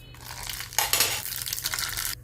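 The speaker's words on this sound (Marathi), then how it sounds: "आता मी फोडणीसाठी टाकणार आहे मोहरी" Mustard seeds sizzle in hot oil as a tempering for curd rice. After a quiet start, a brief, close crackling burst lasts about a second and a half, then cuts off.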